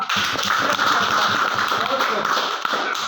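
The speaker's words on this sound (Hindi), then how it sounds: "ताली बजाइए, वाह।" An audience at a Hindi political gathering claps along in a loud, steady patter of many hands, while a speaker's amplified voice carries on over the applause.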